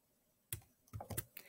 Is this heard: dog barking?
no